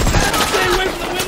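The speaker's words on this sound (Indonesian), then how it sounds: "para polisi pun segera menghentikan tembakan mereka setelah mereka menyadari bahwa Rory dan Kobe memiliki sandera." Police gunfire in a film scene crackles as a dense, rapid fusillade of loud shots, mixed with other action sounds.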